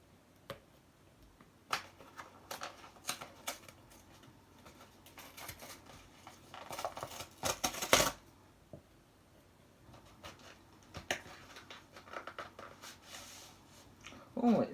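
Packaging being handled while two coach photos and slides are unboxed, including a Johnson Bros coach photo: intermittent rustles, taps and crinkles come in bursts, with a louder cluster of crackling near the middle, all fairly close and quiet.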